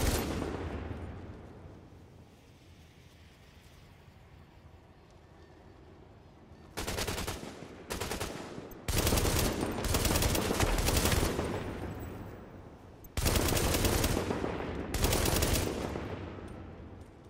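Gunfire from a weapon in The Division video game: loud bursts of rapid automatic shots in several separate volleys, following a quieter opening with fading background noise.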